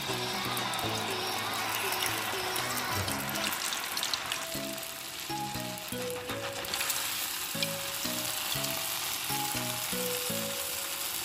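Pitha batter frying in hot oil gives a loud, steady, continuous sizzle that lasts throughout, with background music underneath and no speech.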